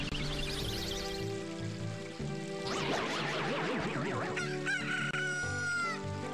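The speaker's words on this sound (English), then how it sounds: "Leave me alone, chickens!" Video game chickens from Zelda: Ocarina of Time cluck and crow loudly over game music and sound effects, with several overlapping bird calls filling the stretch.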